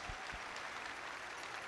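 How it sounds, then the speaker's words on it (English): Audience applause at the Pelotonia opening ceremony, a steady wash of clapping across the room throughout, with a couple of low thumps at the start. "a round of applause for all of you for being here tonight"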